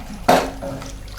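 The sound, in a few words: water being poured into prawn curry mixture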